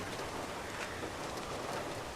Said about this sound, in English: It's pouring. It's just started raining